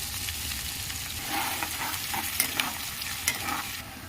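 Thinly sliced onions fry with spices in a pan while being stirred, giving a soft continuous sizzle with occasional scraping clinks, faint and close, and no speech.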